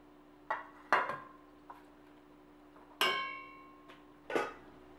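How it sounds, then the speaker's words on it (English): Vegetables for a spicy Korean beef and vegetable soup (yukgaejang) go into a pot of boiling broth, heard as about six separate sharp clinks and knocks against the pot, some ringing briefly, spaced irregularly over a quiet background. "We're going to throw in all the vegetables except for the green onions into the pot."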